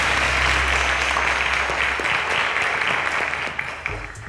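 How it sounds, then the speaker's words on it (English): A studio audience applauds contestant Almin on a quiz show, sustained even clapping that holds strong, then thins slightly toward the end. "A round of applause to Almin, ladies and gentlemen."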